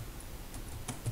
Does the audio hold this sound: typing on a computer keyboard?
yes